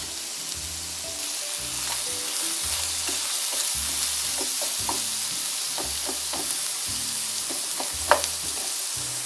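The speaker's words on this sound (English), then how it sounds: "So I think it's time to fry up." Yakisoba noodles frying in a pan, a continuous close sizzle with periodic stirring scrapes and clinks, and one sharper knock near the end.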